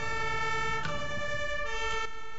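A wailing ambulance siren in a Robocop video game, a steady electronic tone holding with a harmonic-rich wail and brief swells, loud and continuous with no speech over it.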